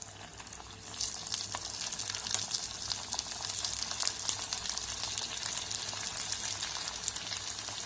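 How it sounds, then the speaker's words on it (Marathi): Cut aloo roll pieces fry in heated oil, a dense steady sizzle that swells in after a quieter first second and then crackles continuously, close but low in level, with no talking. "आता आपण त्यात जे पीस कट केले ते तळून घेऊया।"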